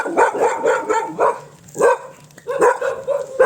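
Neighbours' dogs bark repeatedly in a string of close, loud barks, with short pauses between volleys and some yips mixed in, outdoors near a garage.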